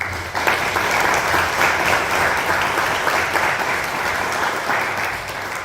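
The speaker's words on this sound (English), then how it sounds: "Let's give these students a round of applause." A room at a Cumberland County Fiscal Court regular meeting gives students a steady, full round of applause that lasts throughout, with no talking over it.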